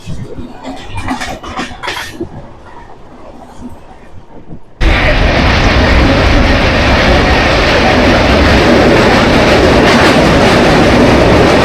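The Chennai Mail train running on the rails starts as a quieter, uneven clatter, then abruptly becomes a loud, steady, close rolling rumble that carries on to the end.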